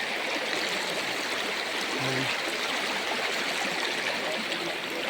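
A river flows as a steady, even rush of water throughout, with one brief spoken word near the middle.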